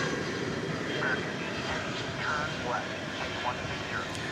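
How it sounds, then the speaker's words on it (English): An American Airlines jet, the airline's biggest plane, at DFW Airport at night, a steady broad engine roar running throughout at moderate distance with faint talk underneath. "biggest American Airlines plane that the airline currently flies"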